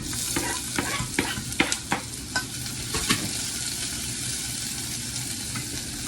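Garlic and onion sauté in hot oil in a pan, a steady broad sizzle with scattered sharp crackles and stirring scrapes, close and continuous, no talking.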